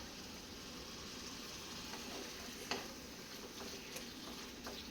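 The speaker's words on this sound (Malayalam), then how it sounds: "അപ്പോൾ നമുക്കിതൊന്ന് ഫ്രൈ ചെയ്തെടുക്കാം" Beef or chicken frying in a pan, a soft steady sizzle with faint ticks and a brief clink or stir, heard quietly and alone with no talk.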